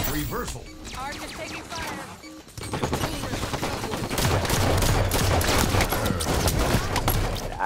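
A Needler fires in Halo 5 amid busy gunfire: rapid crackling bursts of shots and impacts that start sparse, then grow into a dense, loud, continuous volley, with voices talking over it.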